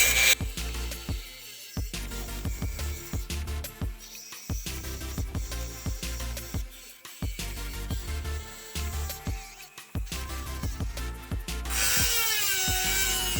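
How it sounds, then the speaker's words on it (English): A Dremel rotary tool with a grinding wheel cuts metal on a Jeep Wrangler tire carrier, giving close, loud, high whining bursts that repeatedly start and stop, ending in a sustained screech. "While the Dremel's going,"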